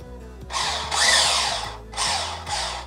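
A small electric motor in a WLToys A959-B RC car whirs in short high-pitched bursts, revving up and dropping off repeatedly, close and fairly loud.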